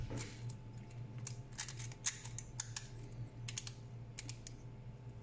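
A 1Zpresso K-Plus manual coffee grinder being set to zero and locked tight gives a run of sharp, dry mechanical clicks, close and fairly quiet, spaced irregularly over a faint steady hum with no talking.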